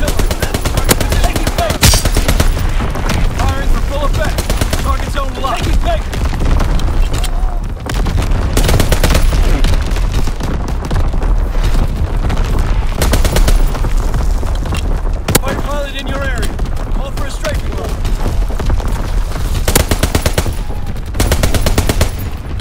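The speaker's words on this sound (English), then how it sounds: "Anti-aircraft bursts commence." Loud anti-aircraft gunfire bursts from a Call of Duty: WWII battle, dense rapid volleys with deep booms running almost without pause and a voice briefly heard amid the clatter.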